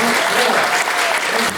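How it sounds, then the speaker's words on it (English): Audience applause for mayoral debate candidates in an art house theater, a dense, steady wash of clapping hands filling the room at close range. "Give them a quick round of applause."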